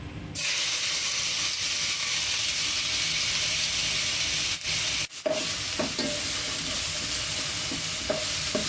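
Chopped onion, a piece of ginger and two or three garlic cloves sauté in hot oil in a pan. The loud, hissing sizzle is steady and close, with a brief dip midway and then scraping strokes as the mixture is stirred.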